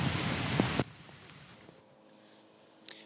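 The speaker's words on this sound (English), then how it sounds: "As more rain picked back up." Heavy monsoon rain pours down hard at first, then abruptly drops to a lighter, steady patter, with a brief splash near the end.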